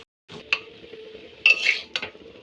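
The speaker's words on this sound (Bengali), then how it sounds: "চাউমিনটা দিয়ে তারপর এবার নাড়ানো হচ্ছে" Chow mein noodles stirred in a pan on a home stove, a few distinct utensil scrapes and clinks against the metal over a soft sizzle, close and fairly quiet.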